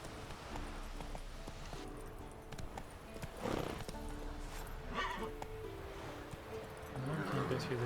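Horse hooves clip-clop steadily over the ground in the video game Witcher 3, a moderate, even gait under soft game ambience, with a voice briefly audible nearby.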